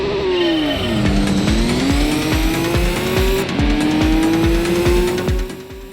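Race cars launching at the start of a Gran Turismo 2 race at Trial Mountain, engines revving and climbing with rapid repeated gear shifts, tires squealing, loud and continuous with no talk.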